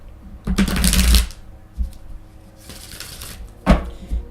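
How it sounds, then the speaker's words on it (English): Lightworker Oracle cards being shuffled by hand: a sharp riffling burst, then quieter pauses and two more shorter shuffles, close and clear with no talking. "I'm going to pull a Lightworker Oracle card for you guys"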